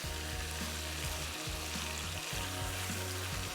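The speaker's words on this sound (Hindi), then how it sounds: "थोड़े से तेज़ फ्लेम पे गरम ऑयल में अच्छे से फ्राई कर लेंगे।" Meat fries in hot oil over a high flame with a steady, bright sizzle and crackle, moderately loud and close, over a low hum with repeating tonal bands, and no one speaking.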